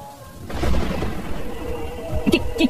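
Thunderstorm with rain in a cartoon: a sudden low rumbling boom swells and lingers over a wash of rainy noise, with a few sharp clicks near the end.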